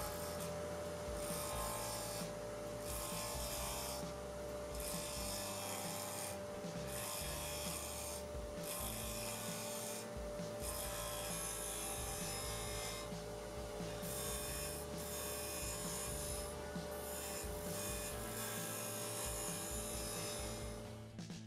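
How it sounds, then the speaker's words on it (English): Continuous scraping and hissing of a wood lathe at about 2500 RPM, the tool roughing spinning wood blanks to round for a key ring lighter, with a steady motor hum beneath and rhythmic pulses as the cut catches. "Now rough the blanks to round with the lathe at around 2500 RPM."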